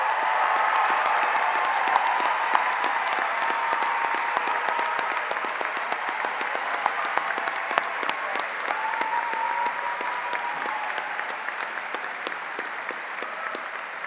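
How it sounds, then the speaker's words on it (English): A large audience at an engineering graduation ceremony applauds steadily, a dense, even wash of many hands clapping that holds for about fourteen seconds without talk. "please stand as a group and so we can applaud your amazing achievements"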